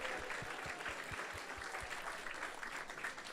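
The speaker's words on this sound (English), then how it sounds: "So let's give a big round of applause to everyone who has joined us tonight." Audience applause at a temple Sunday feast, a sustained wash of clapping from a crowd with a few distinct nearby claps, heard at a distance and faint.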